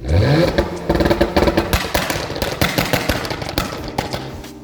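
A BMW 335i fitted with an anti-lag chip and 2-step relay revs hard, with sharp exhaust pops and crackles firing in rapid bursts, loud and close, easing off toward the end.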